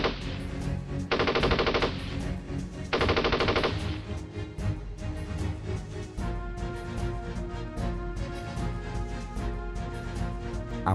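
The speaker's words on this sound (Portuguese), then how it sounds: "Visão a partir da posição dos alemães, destacando os disparos contra o grupo do sargento Wolff." Bursts of rapid machine gun fire rattle out, two dense volleys early on, followed by scattered shots and rumbling battle noise.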